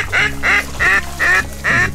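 Pintail ducks quack five times in a steady, evenly spaced rhythm, loud and close, each call a harsh nasal burst over a low background hum at a duck hunt.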